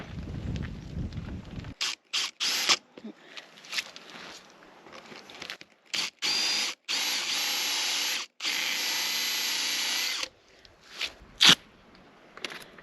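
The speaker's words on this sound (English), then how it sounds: "That's a fine technique for keeping the wood from tearing apart when you drill." A power drill with a sharp bit bores into wood in several short bursts and a few longer runs, loud and close, with brief pauses and small clicks between them.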